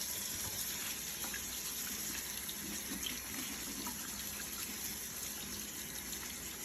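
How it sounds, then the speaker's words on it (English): Warm water runs steadily from a kitchen faucet into a sink, a soft continuous hiss and splash heard up close without pauses. "Turn on warm water."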